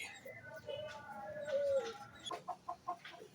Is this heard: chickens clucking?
yes